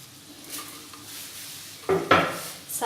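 Chopped coriander, green chili and sliced ginger are stirred into mash dal in a pot, with soft scraping at first, then a few sharp spoon clatters against the pan near the end.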